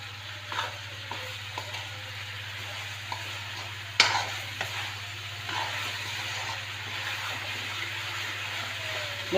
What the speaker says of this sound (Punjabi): ਆਪਾਂ ਹਲਾਉਂਦੇ ਰਹਾਂਗੇ ਕਿਉਂਕਿ ਸ਼ੱਕਰ ਤੇ ਇਹ ਔਲਿਆਂ ਦਾ ਮਿਕਸ ਚੰਗੀ ਤਰ੍ਹਾਂ ਪੇਸਟ ਬਣ ਜਾਏਗਾ